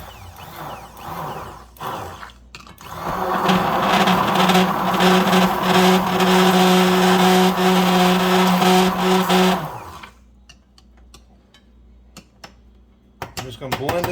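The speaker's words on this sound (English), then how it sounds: "what I'm going to do now is just take this immersion blender" An immersion blender whirs steadily in a jar of broken mayonnaise for several seconds, a loud sustained motor hum with a buzzing tone, starting and stopping abruptly amid small clatters.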